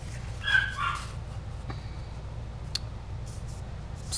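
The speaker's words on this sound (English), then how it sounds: "I'm sorry if you can hear my dog barking." A pet dog barks from another room of a house, a short burst of faint, muffled barks early on, then quiet indoor room tone.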